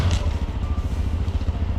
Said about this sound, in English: Ago wrestling with his motorbike again